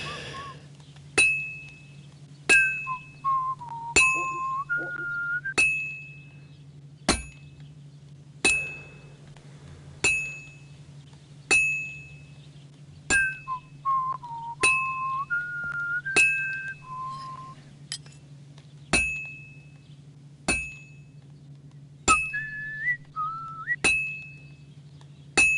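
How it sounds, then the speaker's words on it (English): A character whistles a short melodic tune in a Kingdom Come Deliverance 2 video game, the phrases repeating over a steady low hum and broken by regular sharp metallic clinks, like hammer strikes on metal, at a steady rhythm. "Never just fucking whistling"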